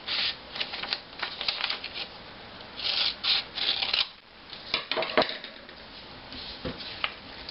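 Paper being cut for building an OmniWing model aircraft, heard as close, quiet, repeated snips and rasping strokes in an irregular rhythm, with no talk.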